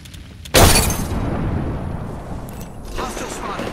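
A frag grenade goes off in a shooter video game, a single loud close blast that erupts suddenly and rolls into a long rumbling tail, with game sounds and chatter continuing underneath.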